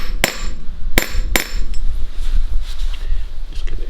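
Hammer taps seat a part in a front suspension assembly: three sharp metallic strikes in the first second and a half, followed by fainter knocks over a low background rumble.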